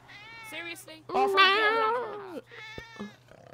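In GTA Online's Peyote update, a player-turned-cat lets out a loud, drawn-out meow, then a shorter one, close and clear, with players talking around it.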